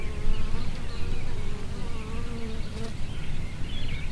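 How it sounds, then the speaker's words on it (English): Steady, close buzzing of many honeybees flying around a hive entrance, a dense droning hum with individual wings rising and falling over it, no voices. "So we got bees coming and going."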